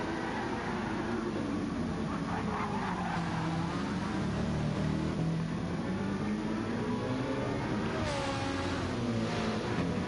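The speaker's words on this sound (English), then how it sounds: "Even with front damage, that Corvette is catching that Ferrari." GT race cars, including a Corvette and a Ferrari, roar around the Bathurst mountain circuit in a racing video game, with high engine whines rising and falling through gear changes over a constant dense mechanical din, no voices.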